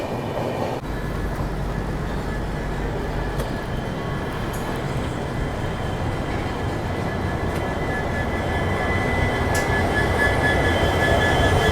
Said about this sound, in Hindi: लोकल ट्रेन ओवरटेक कर गई पैरेलल